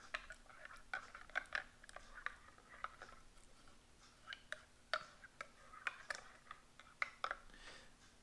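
A spoon stirs Taster's Choice instant coffee from a 1993 U.S. military MRE, giving soft, irregular clinks and scrapes against the container, quiet and close.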